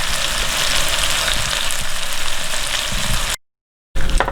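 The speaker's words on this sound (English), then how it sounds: "when you have our saltfish nice and sauteed off" Saltfish sautés in a hot pan with a loud, steady sizzle and crackle that runs continuously, breaks off briefly near the end, then resumes just as strongly.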